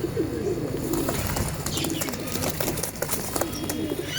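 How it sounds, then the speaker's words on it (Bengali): A very large pigeon in a loft among other birds, soft low cooing near at hand, with scattered fluttering and rustling behind it. "এই বিশাল বড় পায়রা, বিশাল বড় সাইজের পায়রা।"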